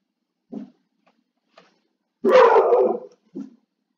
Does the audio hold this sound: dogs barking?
yes